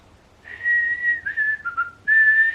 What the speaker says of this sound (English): So to keep myself awake, I started whistling